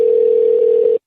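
A telephone dial tone hums as one loud, steady, unbroken tone after a call is hung up, then cuts off abruptly after about a second.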